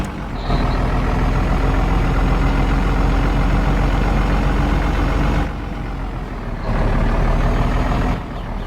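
A Tata truck engine in a driving game labours under a heavy load, a loud, steady low drone with brief dips in intensity, and no speech.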